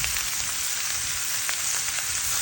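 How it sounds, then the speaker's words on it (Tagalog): Ribeye steak seasoned with garlic powder, pepper and salt sizzling in a pan, a steady dense hiss of frying with faint crackles throughout and no talk. "Look at that sizzling thing."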